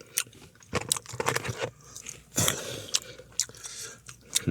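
Close, wet chewing of a tough, chewy piece of braised oxtail, with irregular bites and squelches coming in bursts and short pauses, no talking.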